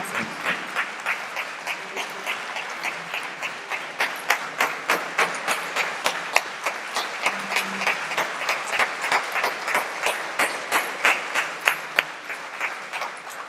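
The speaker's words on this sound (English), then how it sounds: "A big round of applause." An audience at a business talk applauds at length, with steady rhythmic clapping that turns into synchronized beats, sustained and fairly loud.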